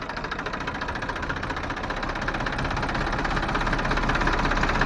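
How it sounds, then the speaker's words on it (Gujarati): A tractor engine runs steadily at close range, a loud rough knocking drone that holds constant and builds slightly toward the end. "તો મિત્રો સેજલે ટ્રેક્ટર લઈ લીધું છે"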